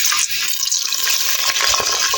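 A tarka spits and splutters in hot ghee, a loud, bright crackling sizzle that holds steadily throughout with small popping bursts layered on top.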